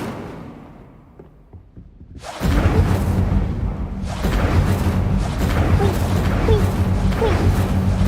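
The Incendio fire spell cast in Hogwarts Legacy bursts out after a quiet lead-in, a sudden roaring whoosh of flame that stays loud and crackling for several seconds.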